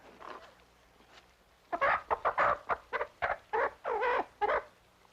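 A chicken clucks close and loud in a quick series of about a dozen choppy bursts, after a quieter opening.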